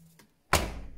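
A washing machine door is pulled open with a single sharp clunk that fades into a short rattling decay, close by and alone after a brief quiet moment.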